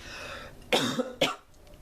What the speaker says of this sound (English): I have to cough, hold on